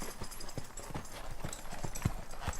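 Horse walking during a riding lesson, a steady run of soft clip-clop hoofbeats in an even rhythm, fairly close, with no talk over them.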